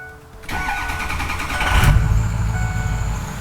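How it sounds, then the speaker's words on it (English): A Ford Power Stroke truck's engine cranks and starts after being tuned with a performance tuner. A dash chime is followed by the starter catching and the engine rumbling into a steady, loud idle nearby, with no talking. "see if the truck will start."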